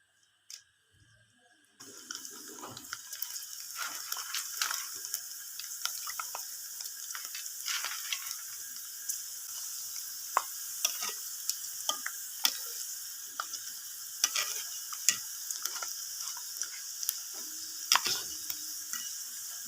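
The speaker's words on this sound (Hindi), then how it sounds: "तो जी ऑयल हमारा गर्म हो गया है। अब हम ये अपनी चावल की सेवइयाँ डालेंगे।" Rice vermicelli crackling and hissing in hot oil, a dense continuous sizzle with scattered sharp pops and occasional stirring clicks, starting abruptly after a brief quiet moment and staying steady and close throughout.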